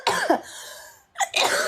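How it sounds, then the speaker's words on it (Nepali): A person with a cold coughs twice, a sharp close-up burst at the start and another after a brief quiet gap, with a hoarse, breathy rasp trailing the first. "लास्टै खोकी लाग्यो यार चिसोले"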